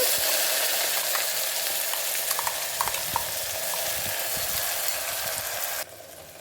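Ground mint paste frying in oil with onions, ginger-garlic paste and chilli, a loud continuous sizzle broken by scraping stirs, fading quieter at the very end.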